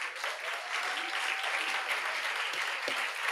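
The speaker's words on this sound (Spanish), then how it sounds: "Un aplauso para Gabriela." Steady audience applause at a commemorative event honoring a Nobel laureate poet, dense continuous clapping from a crowd with faint background voices and a brief tonal sound mixed in.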